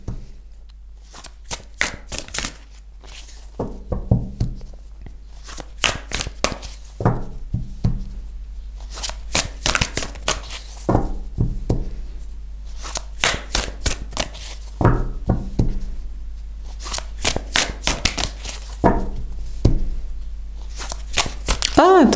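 Tarot cards are shuffled and handled repeatedly in bursts of crisp riffling and slapping, close up, while someone talks in between.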